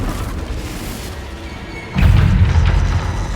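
A Confringo fire spell bursts in the Hogwarts Legacy video game, a single loud, deep boom that hits about two seconds in and rumbles on after a quieter stretch of ambient game noise.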